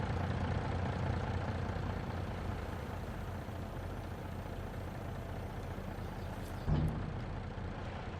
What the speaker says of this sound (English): Let's get ready to shut this tractor down. He's been running this whole time